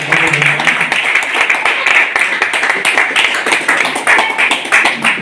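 Audience at a celebration event in Bhiwandi claps and applauds together, a dense, steady patter of many hands lasting throughout, with a few voices mixed in.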